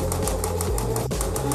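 Sewing machine stitching through four fabric layers of a face mask, a steady rapid mechanical chatter with a regular pulsing rhythm, close and continuous throughout.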